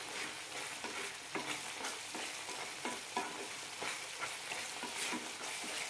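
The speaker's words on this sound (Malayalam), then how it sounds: "നന്നായി മിക്സ് ചെയ്യാം എണ്ണ തെളിഞ്ഞു വരുന്നവരെ വഴറ്റിയെടുക്കാം" Tomato pickle being sautéed in oil with Kashmiri chilli powder, stirred steadily so a spoon scrapes and taps the pan in a regular rhythm over a continuous sizzle, close up and fairly quiet, with no voices.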